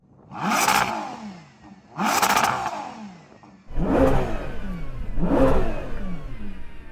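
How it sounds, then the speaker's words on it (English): An SUV engine revs hard four times, each rev swelling and falling away, loud and close, the last two with a rougher idle rumble beneath. "can you hear my car revving?"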